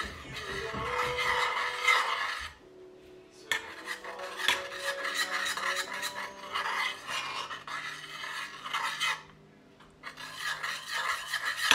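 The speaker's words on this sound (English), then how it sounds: "Let's give it a good mix." Honey-sweetened mixture being stirred in a bowl, a steady rasping, scraping rub of utensil against the sides with brief pauses, close and alone without talk.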